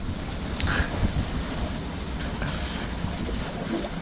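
A 20-knot northeast wind buffets a sailboat underway, a steady rushing roar with gusty microphone rumble and the wash of water alongside, continuous and fairly loud with no talk.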